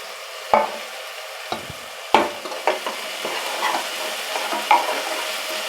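Green chillies fry in oil with fresh ginger garlic paste for chicken dum biryani, a soft continuous sizzle punctuated by several sharp stirring clatters and pops, close and with no talking.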